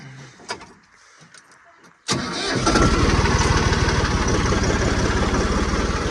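A Massey Ferguson tractor's diesel engine cranks and fires up abruptly after a quiet stretch, then settles into a loud, steady, close-up running rumble.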